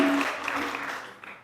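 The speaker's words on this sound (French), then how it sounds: "Nous allons maintenant nous applaudir nous-mêmes." A church congregation at a French Mass claps together in a dense burst of applause that quickly fades away, with a brief spoken voice at the very start.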